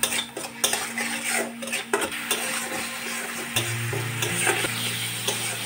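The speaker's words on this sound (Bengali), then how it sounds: "এবার এটাকে নাড়াচাড়া করে নেব" A spoon scrapes and clinks against a pan while tomato purée with turmeric and salt is stirred into hot oil for a Bengali bhola fish curry, with a low sizzle underneath and no talking.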